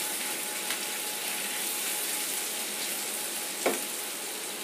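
Ginger and garlic fry in a pan with a steady, even sizzle, close and continuous, with a couple of brief stirring clicks.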